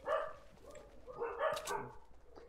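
Dogs bark in short yappy bursts nearby at a moderate level, a few sharp yips and a whimper-like tone among them, with no talking.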